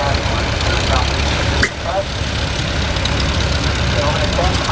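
Antique International tractor engine running at a street parade, a steady low rumble close by under constant background noise, with a brief dip partway through.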